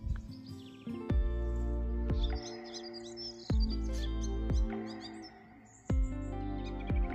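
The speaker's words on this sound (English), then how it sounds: "The birds are all back out." Birds sing and chirp in the open countryside on a sunny morning, with bright twittering calls spread through the background. Several loud low thumps and rustles sit close by in the foreground.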